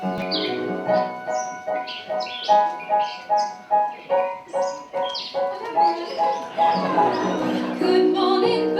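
Morning birdsong with repeated bright chirps and tweets in a steady rhythm, joined by cooing and musical tones, fairly loud and continuous with no talking.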